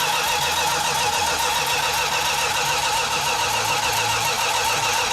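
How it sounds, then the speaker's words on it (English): An outboard boat engine, fed from a remote fuel tank, cranks with a dense, continuous mechanical chatter and whine throughout, close and loud, with no voices. "So when we initially tried to start cranking the engine over"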